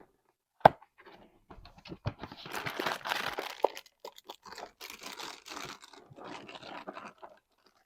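Crackers are crunched and crinkled close up in a series of irregular crisp bursts, a sharp snap first, then rustling crunches, with no talk.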